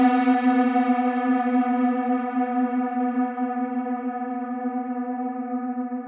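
A Cherry Audio GX-80 synthesizer, a CS-80 emulation, sustains a single rich, buzzy note with a full stack of harmonics for about six seconds. The note is steady and loud, with a gentle wash of delay and plate or galactic reverb.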